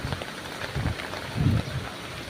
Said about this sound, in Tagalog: Pa rin tumitigil yung ulan.